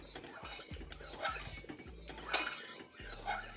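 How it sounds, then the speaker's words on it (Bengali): Cooking oil being spread around a hot kadai (wok) before frying long yard beans: quiet, repeated metallic scraping and clinking of a utensil against the pan, with soft talk alongside. "এভাবে তেলটা চারিদিকে লাগিয়ে নিচ্ছি"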